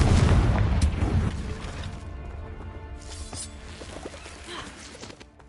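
A Confringo spell explosion from the video game Hogwarts Legacy lands as a heavy boom at the start, decays into rumbling, and is followed by scattered crackles and thumps of magical combat, moderately loud.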